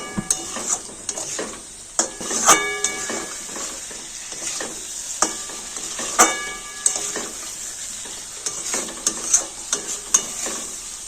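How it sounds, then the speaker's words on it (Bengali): Turmeric spice paste with a splash of water stir-fried for a prawn and potato curry, a spoon scraping and clattering against the pan in steady, close strokes over a continuous sizzle. "হলুদ, একটু জল, ভালো করে কষিয়ে নেবো।"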